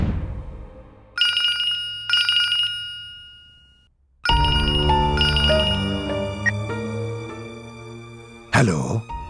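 A phone rings with an incoming call in a Hindi TV drama scene: two short bursts of a bright electronic ringtone, then dramatic music swells in.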